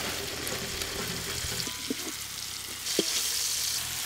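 Tomatoes and whole spices fry for chicken biryani, a dense, even hiss of hot oil with a few soft stirring knocks, loud and close, no voices.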